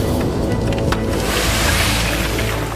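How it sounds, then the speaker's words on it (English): Breezy wind sweeping over desert sand dunes, a loud rushing roar buffeting the microphone with low rumbling gusts and a hissy wash, continuous and close for the few seconds, no voices. "It's quite breezy today"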